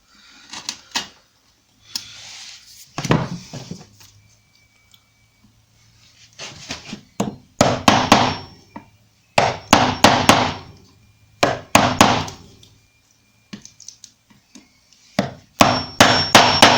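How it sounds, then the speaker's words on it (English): Hammer blows on a chisel chopping back bricks during kitchen fitting, sharp close metallic strikes in irregular clusters with short pauses between groups. "I can put my chisel flat side in and clean the hole up."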